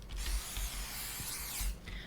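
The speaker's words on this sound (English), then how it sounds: "You can also call it the rat spray, so it just sucks up the rats in the can." A rat poison spray can in a video game gives a steady, close hiss that swells in short surges for about two seconds.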